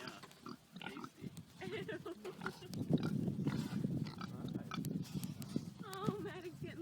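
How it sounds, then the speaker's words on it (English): A pig grunts and snuffles up close at a farm, amid shuffling, scuffing movement, while people talk quietly in the background. "Maddox getting loved up by the pig"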